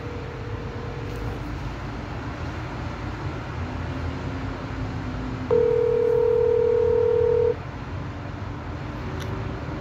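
A telephone line carries a steady drone. A short tone comes first, then a longer, louder tone, heard while calling a scam number.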